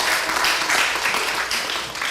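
Comedy show audience at the Actors Temple in New York City applauding, a steady wash of many hands clapping throughout, moderately distant and fairly even in level.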